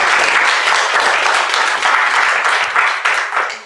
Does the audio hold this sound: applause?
yes